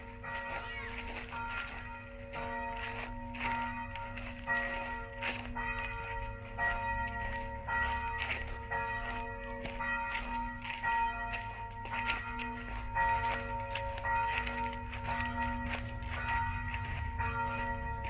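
Church bells ring at noon in a German town, sustained overlapping peals clanging steadily throughout at moderate distance, with some faint background sounds.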